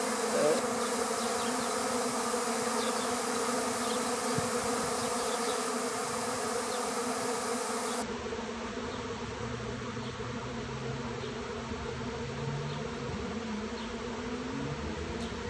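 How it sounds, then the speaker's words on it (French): A large honeybee swarm settles onto a hive outdoors, a dense, steady buzzing drone of many bees that holds throughout, close and continuous with no talking. "Il y a plein d'abeilles. Et là, elles sont en train de se poser toutes sur la ruche."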